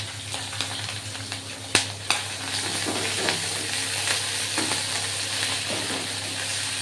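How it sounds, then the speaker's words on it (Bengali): Cumin, ginger and chili paste fry in a pan with a steady close sizzle, broken by a couple of sharp clacks and soft scraping as the spices are stirred. "এবার মশলাটা এখনো কাঁচা আছে, তো আর একটু কষে"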